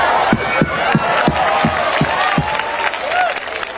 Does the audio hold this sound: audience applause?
yes